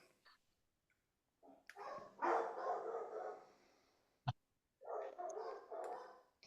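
Several household dogs bark in bursts behind a quiet indoor setting, with loud clusters of barking around the middle and end separated by brief pauses and a sharp knock.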